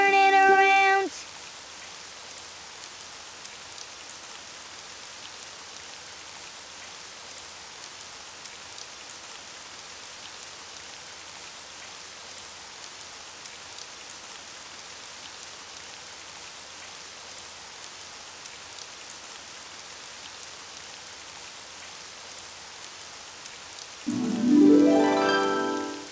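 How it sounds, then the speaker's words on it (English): Rain falls steadily outside in an animated children's show, a soft, constant hiss lasting throughout, with brief louder sounds at the very start and end. "It's raining outside."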